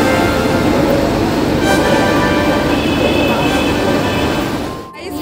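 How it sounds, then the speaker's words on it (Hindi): The Shimla toy train pulls into platform 5 at a railway station, producing a loud continuous rumble and rolling noise of the carriages that fades slightly toward the end. "फाइनली हमारी ट्रेन आ चुकी है।"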